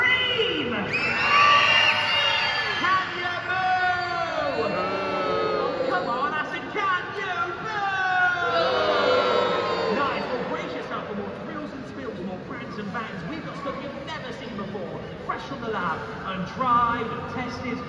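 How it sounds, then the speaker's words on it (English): A large holiday-camp crowd at Butlins Minehead cheers and screams loudly on cue, with high shrieks and whoops rising in waves and staying strong throughout. "Can you all cheer? Can you scream?"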